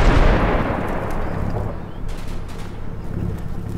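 Tank gun firing on a building in the Combat Mission game, set in the Market Garden campaign: one heavy blast at the start that fades into a long, rumbling tail with no speech.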